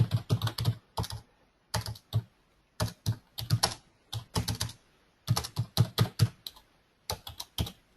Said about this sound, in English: I'm going to type in the box as well to make sure that everybody can hear.